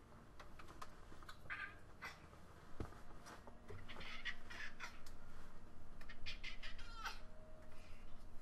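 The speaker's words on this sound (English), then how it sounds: "meowing cat." A cat meows a few times indoors, short mid-pitched calls spread across several seconds over steady low background noise.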